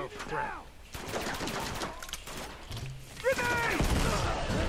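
Grenade launcher fire and gunfire in Uncharted 2, scattered shots, mechanical clanks and thuds mixed with game effects, growing louder toward the end, with faint voices in the background.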